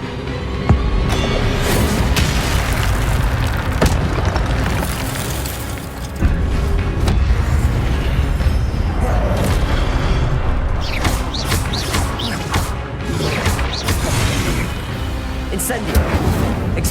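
Fire spell blasts in Hogwarts Legacy, a wizarding video game, rumble and boom repeatedly amid loud, busy game action and effects for a long stretch, with no voice heard.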